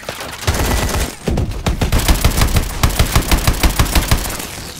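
Loud, close gunfire in Call of Duty: Advanced Warfare, rapid automatic bursts with a steady rhythmic rattle of repeated shots dominating the whole stretch.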